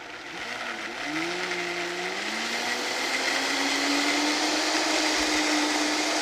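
A Vitamix blender blending an olive-oil herb dressing, its motor whirring loud and steady close by, pitch rising briefly as it ramps up and then holding a constant high whine throughout.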